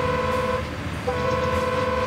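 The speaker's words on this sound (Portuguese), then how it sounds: "Opa, é H, é a buzina." Truck horn sounding in the Construction Simulator video game, a steady tonal honk held for about two seconds with a brief dip in the middle, loud and close over low engine rumble.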